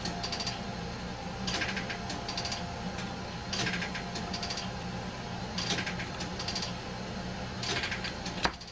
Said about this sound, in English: So we're just going to punch those pins out.